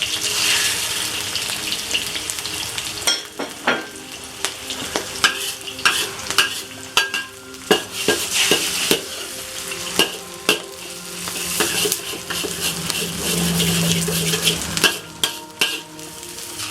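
Three eggs and leaves are stirred in a hot pan, making a steady sizzle with scraping and clattering utensil strokes throughout, moderately close and without talk.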